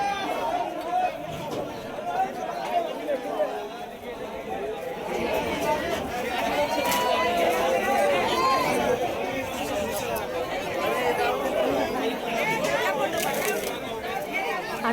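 Crowd of Hindu devotees forcing through a temple gate at Bhimashankar near Pune, a dense, continuous babble of many voices with shuffling and jostling, steady and fairly loud throughout.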